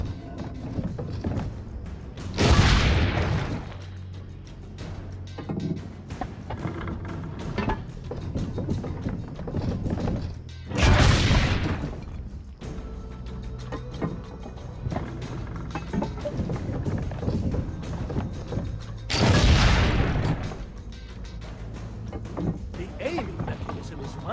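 Three heavy cannon blasts boom at even intervals from a ship or fort gun in Assassin's Creed: Brotherhood, a video game, each a loud broad burst under ongoing talk and background game noise.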